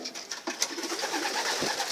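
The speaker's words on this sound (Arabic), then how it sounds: "هذو الحمامات اللي حبسنا عليهم" Racing pigeons coo steadily inside a modest loft belonging to a champion pigeon breeder, soft overlapping calls continuing close by through the whole clip with no talk.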